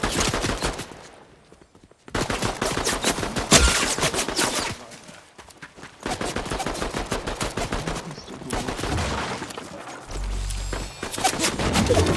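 Gunfire in the video game Fortnite, with dense rapid bursts of shots crackling almost continuously, pausing briefly near the start and thinning toward the end, loud and close with no talk over it.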